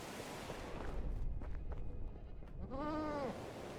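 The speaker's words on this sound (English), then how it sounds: "Goats." Goats in Medieval Dynasty let out one wavering bleat near the end, faint and nearby, after soft rustling and thuds in a quiet outdoor setting.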